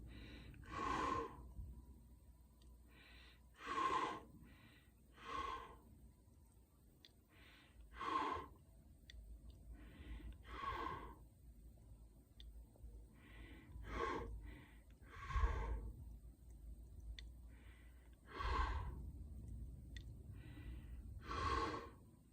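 A person exhales sharply through the nose again and again, about ten distinct close, breathy bursts spaced a few seconds apart with quiet gaps between them.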